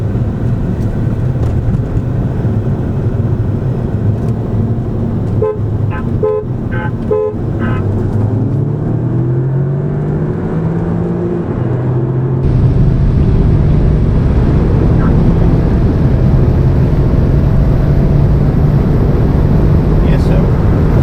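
Audi S3 or Ford Focus ST Mountune Edition, both 2018, accelerating hard through the gears on a launch run, engine note climbing in pitch with gear changes, loud and close, with people talking inside the car.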